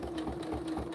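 A sewing machine stitches binding onto a diagonal zippered pouch, running with a steady, close mechanical whir and a regular pulsing rhythm through the whole second, with no talk over it.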